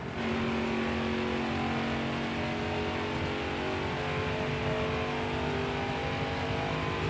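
A race car engine in the NASCAR Heat 4 video game roars steadily at high revs, a loud, sustained drone with no pauses and no talking.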